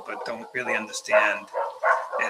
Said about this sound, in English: I'm sorry if you hear the dogs in the background there